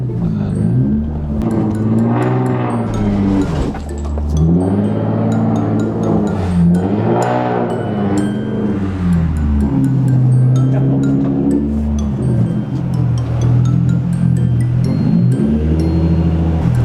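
A Nissan 350Z with a new NISMO exhaust rumbles and revs continuously, loud and close, with rising and falling pitch sweeps through the low end.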